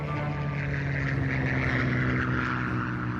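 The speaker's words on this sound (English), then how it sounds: "A British reconnaissance plane spots the Bismarck and the Prince Eugen" A British Spitfire reconnaissance plane flies overhead with a steady, droning propeller engine hum that holds continuously at moderate loudness.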